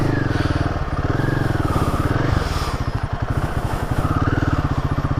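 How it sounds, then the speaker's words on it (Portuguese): A Royal Enfield Himalayan 450 motorcycle engine starts close by with a fast, even putter that dips briefly and then settles back into a steady idle. "Aqui ligamos a moto"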